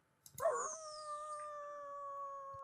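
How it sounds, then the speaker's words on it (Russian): Dogs in the Avatar World game howl in long, steady, sustained tones after a short burst of noise at the start, clear and alone with no talk. "И второй вариант, это вот они завывают. Ну, кошечки это не делают, собачки, только собачками это работает."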